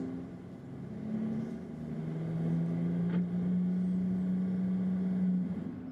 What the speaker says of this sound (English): the cars make their way into the pit lane